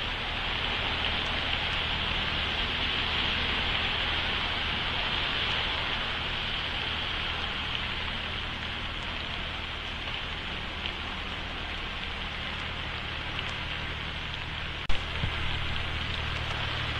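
Steady rain falls onto a surface outdoors, a dense, even hiss of drops that holds at the same moderate level throughout, with a single brief knock near the end.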